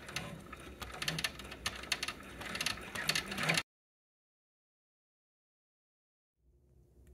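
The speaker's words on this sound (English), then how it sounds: "now I'm going to run the satin stitch around the edge" An embroidery machine runs a satin stitch around the edge of an applique fabric key fob, giving a quiet rapid mechanical chatter for a few seconds before going silent.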